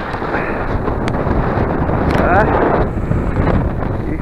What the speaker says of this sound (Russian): О, и еще не менее потрясающий ветер.